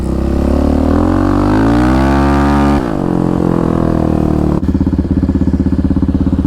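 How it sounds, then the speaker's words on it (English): A 734 Raptor ATV engine revs hard and loud up to its rev limiter, pitch climbing then bouncing in a rapid stuttering cutoff, close and continuous with no talk. "Hit that rev limiter around that corner."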